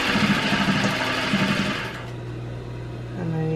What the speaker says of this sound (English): Put your needle down and use your straight stitch and just go straight across.